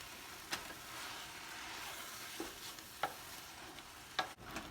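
Beef tips brown in a pan with a low, steady sizzle, broken by several sharp scrapes and clacks of a utensil stirring the meat, close up with no talk.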